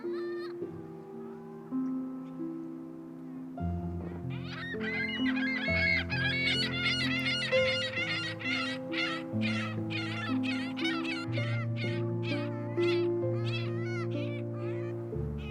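A flock of gulls giving harsh, repeated squawking and wailing calls in quick succession, loud and close, with a lower honking tone underneath.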